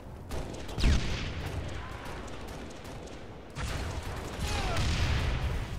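Rocket launcher fire in Halo MCC multiplayer: a loud booming blast near the start, a long rumbling tail, then another heavy burst of explosions and gunfire that builds toward the end.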